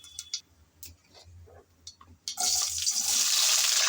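Potatoes dropped into hot oil with five-spice burst into a loud, steady broadband sizzle after a few scattered pops and crackles of the spices, the frying hiss continuing close and strong to the end.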